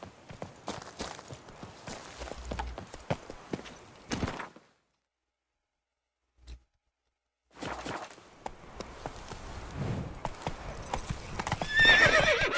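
Hooves of Roach, a horse in The Witcher 3 game, clip-clop steadily with a whinny, stopping for a silent gap before the galloping resumes loud and close.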